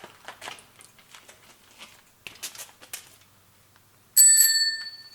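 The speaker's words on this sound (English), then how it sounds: "Is your bell." Soft rustling and handling noises, then a loud, bright bicycle bell rings twice near the end, its tone ringing out and fading.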